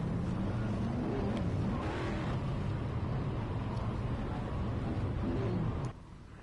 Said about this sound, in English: I can hear somebody doing burnouts on the grid.